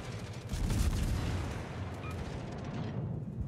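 Naval artillery fire from a World of Warships battle involving a Kotovsky Russian light cruiser, a heavy booming salvo that rolls into a long, fading rumble, with no voices heard.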